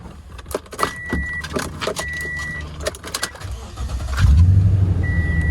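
A used Toyota Tundra pickup truck at a Copart salvage auction yard is started: keys jingle and dashboard chimes ring before the engine cranks and catches into a low, rumbling idle near the end.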